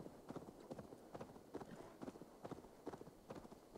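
Horse hooves clip-clop in Assassin's Creed Valhalla, a steady galloping rhythm of paired hoofbeats, faint and even throughout.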